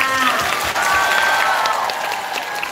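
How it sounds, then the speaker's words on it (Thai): Dense, steady clapping from an audience at a live stage show in a Thai shopping mall, close and sustained throughout with some crowd noise and a voice mixed in. "ขอเสียงปรบมือ"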